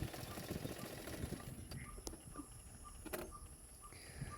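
A sewing machine stitching tucks on a ruffled sleeveless blouse hums faintly and continuously for the first half, then trails off into quieter, intermittent clicks.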